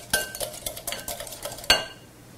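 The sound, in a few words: stirring quiche filling of Canadian bacon and mushrooms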